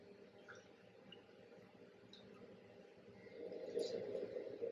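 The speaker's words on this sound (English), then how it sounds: "so I'm gonna put in 2 2/3 cup of water" Filtered Brita water is poured into an oatmeal banana muffin mixture, a quiet close-up liquid trickle that swells and grows louder in the last second or so.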